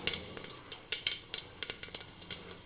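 Fennel seeds sizzle and crackle in hot oil with mustard seeds, with sharp pops scattered irregularly over a steady frying hiss, close up and with no voices.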